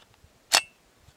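A single sharp gunshot from a Ruger PC Carbine 9mm semi-automatic rifle, one loud crack with a short ringing tail and quiet surroundings on either side.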